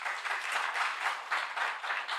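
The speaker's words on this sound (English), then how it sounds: "You might want to wait till I'm done before you clap." A debate audience claps steadily in a dense wash of applause that swells and dips slightly throughout.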